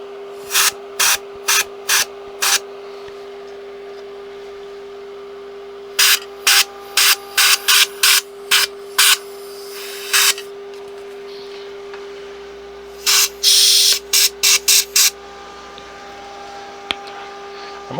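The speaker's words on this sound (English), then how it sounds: "Okay, let's try spraying again." Short sharp bursts of aerosol spray hit a Sansui T-550 FM tuner during repair, fired in quick rhythmic clusters with pauses between, close and loud over a steady electronic tone.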